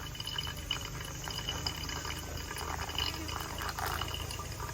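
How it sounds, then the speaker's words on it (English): Hot water trickles steadily onto pour-over coffee grounds in a slow spiral during a hill tribe coffee tour in Chiang Mai, northern Thailand; a continuous, even pour, close and moderately loud, with no speech. "I usually like to pour in the next, kind of start in the middle and spiral out until I get to about 150 grams"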